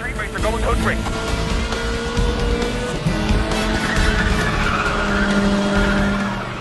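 Racing cars with screeching tire skids in the video game Need for Speed: The Run, including a 400-horsepower car running with exotics and sports cars, loud and continuous, with someone talking over it.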